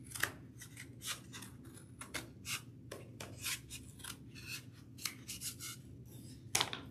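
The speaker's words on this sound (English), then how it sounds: "So I'll just go ahead and cut that off right now." Scissors cut through a piece of a plastic take-out container with a rapid series of crisp, close snips and rasps, some louder than others, without talk.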